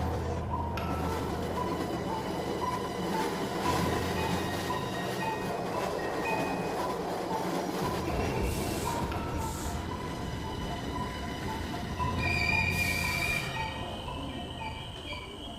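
Train rolling steadily along rails, a continuous rumbling drone with faint metallic squeals and wheel clatter, carrying a lonely night journey through an empty coach with a corpse; no voices, steady and fairly loud throughout.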